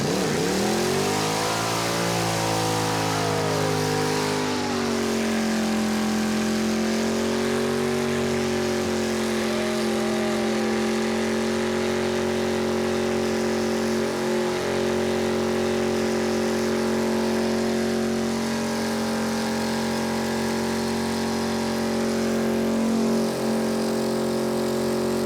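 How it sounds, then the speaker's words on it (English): Car doing a burnout with its engine revving hard, a loud sustained roar that climbs in pitch early on and then holds at high revs for over twenty seconds, with small pitch dips along the way and no talk. "So of course, we head to the burnout."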